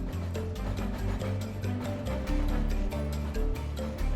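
Spinning machinery in a Nigerian textile factory runs steadily, a dense, loud mechanical clatter with rhythmic ratcheting and whirring parts, continuous throughout with no voices.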